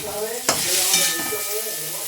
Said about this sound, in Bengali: সিম দিয়ে শাক ভাজা।